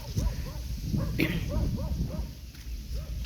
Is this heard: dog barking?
yes